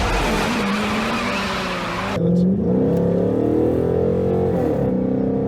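A car engine revs loudly close by while the transmission is tested, rising in pitch, dropping as if shifting gear, then climbing again, with no talk.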